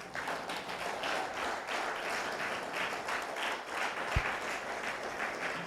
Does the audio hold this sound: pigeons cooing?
no